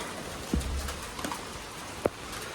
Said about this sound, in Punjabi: ਤੇਜ਼ ਆ ਗਿਆ ਮੀਂਹ